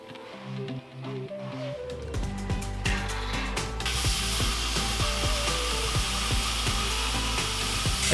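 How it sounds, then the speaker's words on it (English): A CNC plasma table slices through quarter-inch steel plate, a loud, steady hissing roar with rattling and clicking machine motion underneath, running continuously after a quieter mechanical start. "CNC plasma table"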